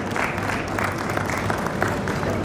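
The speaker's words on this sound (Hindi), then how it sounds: "जोरदार तालियां बजती रहनी चाहिए साथियों" Loud, close applause from a crowd at an event in Gwalior, continuous brisk clapping with a slight murmur underneath throughout.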